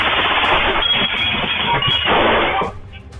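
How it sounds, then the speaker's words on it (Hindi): Rapid automatic pistol gunfire during a daytime shooting at a medical store in Chandigarh, a dense continuous burst of shots that is loud and band-limited, as if from surveillance footage, ending abruptly near the close. "सिर्फ 1 सेकंड में 13 राउंड फायरिंग,"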